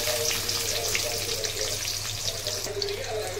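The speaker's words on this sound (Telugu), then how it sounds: "ఆయిల్ వేసుకోవాలి. ఒక పెద్ద ఆనియన్ వేస్తున్నాను" A large onion sizzles in hot oil for a mutton liver fry, giving a steady, dense, close frying hiss with no break and no talk.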